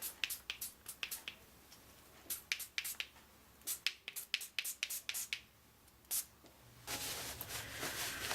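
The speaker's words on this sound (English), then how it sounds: "So shake, spray, shake, spray." An aerosol spray can being shaken and sprayed gives a string of short, sharp spray bursts and rattles, with a longer continuous hiss at the end.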